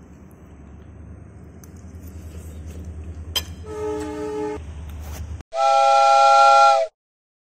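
A train passing near a restaurant in Sivasagar: low rumbling build-up, a brief clank, then a loud sustained steam-style horn blast lasting about a second and a half near the end before cutting off.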